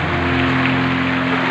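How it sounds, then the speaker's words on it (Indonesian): A congregation at a church service applauds, a dense steady wash of clapping that fills the room without pause, with a low hum underneath. "Tepuk tangan yang paling meriah buat Tuhan."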